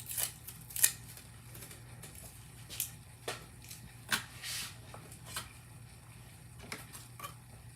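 Scissors cutting out paper cake stands, with a run of close snips and crisp paper rustles at uneven intervals over a low steady hum.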